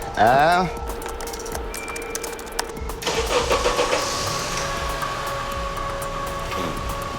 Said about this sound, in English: You could start and stop the engine from the other side of the parking lot.